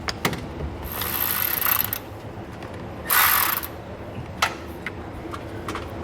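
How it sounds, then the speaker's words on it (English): Two bursts of rapid metallic ratchet clicking as a wrench loosens a 10 millimeter ground bolt on a vehicle base plate installation, separated by scattered single clicks and taps, close and clear. "that's going to be a 10 millimeter, and we're going to go ahead and loosen that up"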